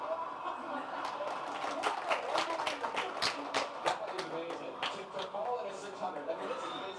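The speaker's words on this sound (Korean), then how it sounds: "박수 한번 칩시다." Scattered clapping from a small crowd, fairly faint and uneven, with some laughter mixed in, applauding a runner who fell while leading a race and injured their face.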